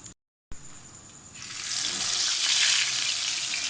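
Chapli kababs, Peshawari style, frying in a pan over a medium flame, a steady loud sizzle swelling in after a brief quiet start and holding close and continuous.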